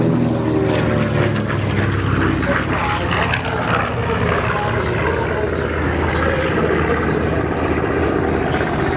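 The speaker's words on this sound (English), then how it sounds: "Once again, from your right, ladies and gentlemen, as the B-25 is" B-25 propeller bomber flying past at an air show, a loud, steady droning engine roar that fills the whole stretch. A public-address announcer speaks over it.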